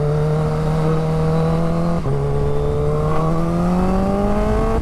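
A Kawasaki Ninja H2 sport motorcycle accelerates hard, its loud engine note rising steadily with one brief dip at a gear change partway through, heard close and alone.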